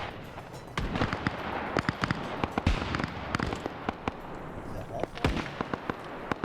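Artillery shells land in a military video game convoy operation: a rapid scatter of sharp cracks and thuds, some close and loud, others fainter, with steady background rumble.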